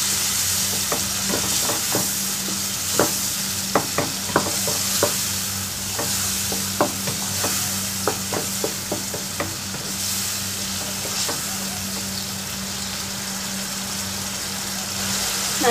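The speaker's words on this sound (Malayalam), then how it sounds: "ഈ വെള്ളം വറ്റുന്നത് വരെ ഒന്ന് നമുക്കിത് ഫ്രൈ ചെയ്യാം." A Thalassery WonderBalls snack mixture fries in a pan, with steady close sizzling under repeated sharp stirring scrapes and clicks of a spoon against the pan, and a low hum running throughout.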